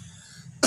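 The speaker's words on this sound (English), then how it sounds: "I am still fighting this friggin' cough" An adult's single sharp cough bursts out abruptly after a quiet stretch with faint low background hum, loud and close.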